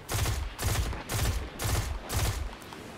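Automatic weapon in Destiny 2 fitted with two energy recoil mods, firing five rapid sustained bursts in a steady rhythm with brief gaps between them, loud and close.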